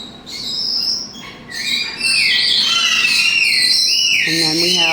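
Parrots calling inside a large parrot rescue bird room, with shrill whistles and squawks rising over steady room noise and growing busier toward the end.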